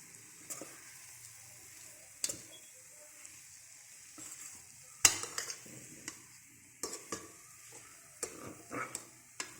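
Broad beans fried with grated fresh coconut and chili powder being stirred in a pan: a faint steady sizzle with scattered scrapes and clinks of a spoon against the pan at irregular intervals, no voices.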